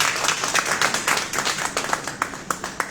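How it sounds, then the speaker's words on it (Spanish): Brief round of clapping from an audience at a book presentation in Tsotsil during a university book fair, a moderate patter of hands that thins out over a few seconds. "Un fuerte aplauso, por favor."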